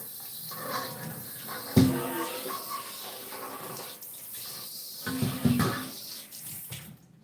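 Tap water runs into a kitchen sink while a large bowl is rinsed inside and out. Steady splashing and hissing flow shifts as the water is spread and strikes the bowl, moderately close, with no talking.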